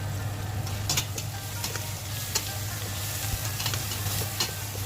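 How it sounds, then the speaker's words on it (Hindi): Onions frying in a pan with ginger garlic paste added sizzle steadily at low volume, broken by occasional scraping stirs and light clinks of a spoon. "और जब लाइट ब्राउन हो जाए तो फिर हम इसमें अदरक लहसुन का पेस्ट डालेंगे।"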